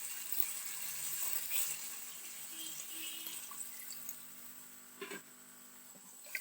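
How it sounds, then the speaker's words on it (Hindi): Water pours steadily into a pot of rice for matar pulao, a continuous close splashing gush that runs throughout with small bumps and clinks of the vessel. "तो 1 किलो हम इसमें पानी डाल देते हैं।"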